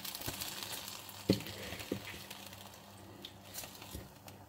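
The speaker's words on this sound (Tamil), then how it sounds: "இப்போ அரிசி நல்லா கொதிக்குது." Soft sizzling and bubbling of rice boiling in a pot on the stove for kuska, steady and close, with a few faint clinks partway through.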